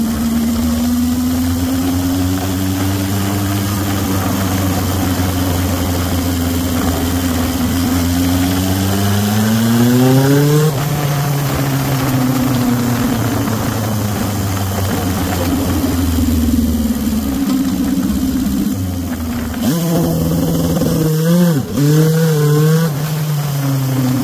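A CB750 Turbo motorcycle engine revs loud and close for the whole stretch, its pitch climbing and falling in long sweeps while it builds boost, then jumping through quick rev blips near the end.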